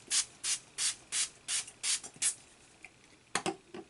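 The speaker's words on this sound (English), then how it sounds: "My face with some setting spray." Makeup setting spray misted onto a face in a series of about eight quick, evenly spaced hissing pumps, followed by a pause and a few more bursts, close and clear with no talking.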